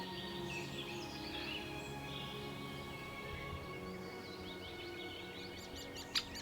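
Great spotted woodpeckers call faintly in the distance from woodland in the Manifold Valley, with scattered short chirping notes over a quiet outdoor hush and a sharp click near the end.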